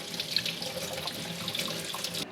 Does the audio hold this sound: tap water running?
yes